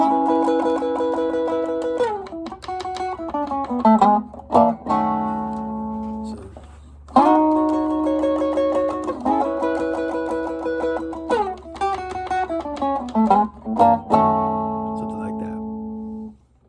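A Chicago blues electric guitar plays a clean chord phrase, with ringing chords, quick slides between shapes and short muted stabs, heard close and alone.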